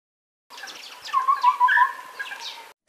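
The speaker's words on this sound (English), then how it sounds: "Ceylon scimitar babbler." A Ceylon scimitar babbler, a bird endemic to Sri Lanka, gives a single clear call lasting about two seconds, with a run of mellow whistled notes and a few higher chirps, close and alone.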